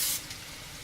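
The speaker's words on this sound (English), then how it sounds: "I'm going to spray a little bit more." A short, close burst of cooking spray hisses into a pan for a fraction of a second, then cuts off to leave a faint low rumble of the pan on the stove.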